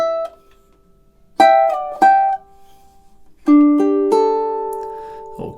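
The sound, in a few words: ukulele playing measures 29 and 30 of a song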